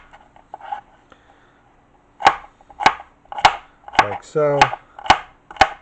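A knife slicing and cubing mini cucumbers on a cutting board, making a run of sharp, evenly spaced chops close up after a brief spoken word, with one quick rattling scrape among them.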